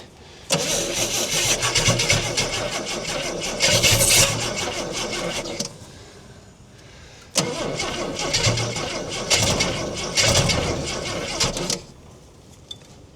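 A 1968 Ford Falcon, parked since 1990, cranks and catches in two loud, rough bursts of about five seconds each, separated by a quiet pause, with a brief click near the end.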